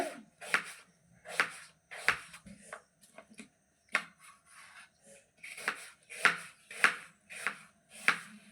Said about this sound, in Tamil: இதை வந்து கொஞ்சம் குட்டி குட்டியாக கட் பண்ணிக்கோங்க